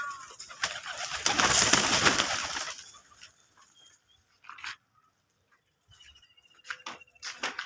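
Pigeons in a loft with their young coo close by, after an opening stretch of loud broadband rustling and fluttering, then scattered short calls and soft coos.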